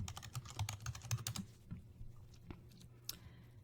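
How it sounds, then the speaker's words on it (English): Someone types a Google search on a computer keyboard: a quick, close burst of key clicks, then a few sparse taps and quiet pauses. "And if I type in Bob Ross, I have 108 million results."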